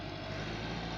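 A brand-new 2021-model 385 tractor idles during a performance check, giving a steady, low engine rumble with a constant hum and no talk over it.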